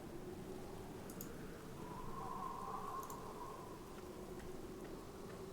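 Steady rain patters over a noble family's stone tomb with metal doors in a video game, a soft constant hiss with a faint drawn-out tone in the middle and no speech.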